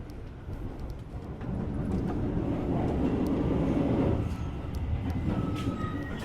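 Inside an economy class carriage of the KA Majapahit train, a steady low rumble of the moving train fills the space, with a rolling roar that builds and holds throughout and faint clicks and squeaks on top.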